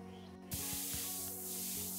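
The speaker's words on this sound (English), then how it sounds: "Quick, the bug spray!" Bug spray in the Bluey video game, a sudden loud continuous aerosol hiss that starts abruptly and holds steady over game music and thumps.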